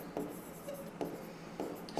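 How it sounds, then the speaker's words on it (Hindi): Marker or chalk strokes writing a maths equation on a board in a classroom lesson, four short scratchy bursts spaced evenly and heard alone at close range. "तो यहां पर हम लिखते हैं"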